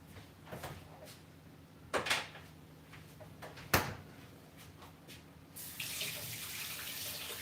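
Dishes being washed at a kitchen sink: quiet clinks and knocks of dishware come through intermittently, then tap water starts running steadily near the end, with no talking.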